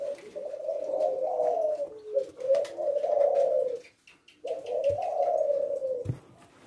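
A Leopard Silver spotted dove (tekukur) coos in repeated low, mellow phrases, close and clear, with brief pauses between the calls and no talking.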